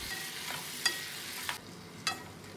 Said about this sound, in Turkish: Yani yüksek ateşte etlerin rengi dönüp sulanana kadar karıştıracağım.